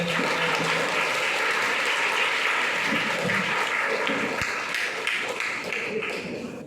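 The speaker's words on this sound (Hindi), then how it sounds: "जोरदार तालियों से स्वागत है।" Loud applause welcoming a guest to the stage at a coaching session closing ceremony, steady dense clapping that holds throughout and tapers slightly near the end.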